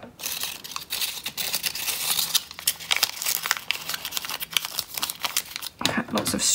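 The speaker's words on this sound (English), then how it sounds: "I'm just going to cut this sort of uneaten bit off." Scissors snip strips into a cardboard toilet paper roll, giving a steady run of crisp crinkling, rustling cuts close up while someone talks throughout.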